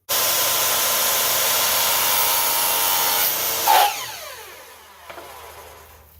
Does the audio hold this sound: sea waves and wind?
no